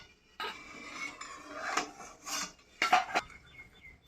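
A pot of boiled eggs lifted off a home stove while cooking a spicy egg curry with potato and capsicum, giving a few clattering metal knocks and scrapes of moderate loudness, with quiet pauses between.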